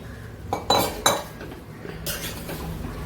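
A metal spoon scrapes and clinks against a pot while rice and soya chunks are stirred for biryani, giving a few sharp clanks followed by softer scraping, close by and with no talk.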